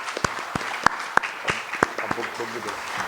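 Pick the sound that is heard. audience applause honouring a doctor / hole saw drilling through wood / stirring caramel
audience applause honouring a doctor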